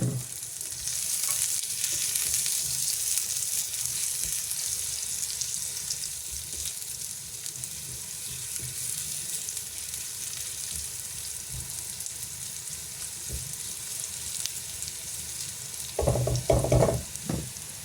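Garlic browning in oil in a pan for prawn adobo, a steady close hiss of frying that runs throughout, ending in a short burst of clattering stirring.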